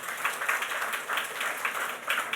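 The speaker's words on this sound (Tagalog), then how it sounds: "pumalakpak ng malakas na malakas" Sunday service congregation clapping loudly together, a dense, steady patter of many hands with rhythmic surges, alone without talk.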